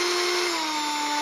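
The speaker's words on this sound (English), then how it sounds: "Now the nice thing about using a slightly smaller drill bit is that we can use this as a reamer" A power drill reams out a hole with a slightly smaller drill bit while making a simple water bottle rocket, giving a steady high whine with a constant tone that holds evenly from start to finish.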